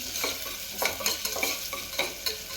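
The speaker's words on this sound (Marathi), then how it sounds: "तमालपत्र आणि बारीक चिरून घेतलेला कांदा टाकून कांदा चांगला सोनेरी होईपर्यंत आपण तो परतून घेणार आहे" Finely chopped onion with bay leaf sautéing in a pan until golden, a close hiss of frying under repeated scraping stirs that come in quick regular strokes.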